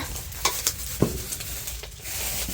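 An egg fries in a pan with a soft background sizzle, broken by a few quick scraping and stirring clicks, close and fairly quiet.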